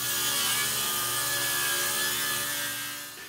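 Power saw cutting a walnut board into quarter-inch slices, a loud continuous whining cut with steady tonal hum, holding level and then easing off slightly near the end, with no talking.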